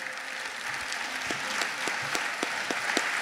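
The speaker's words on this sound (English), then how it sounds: "how about a round of applause for our banjo player, Norma Jean Haynes" A live show audience applauds a banjo player, steady clapping with several sharp, close individual claps cutting through the fuller wash of the crowd.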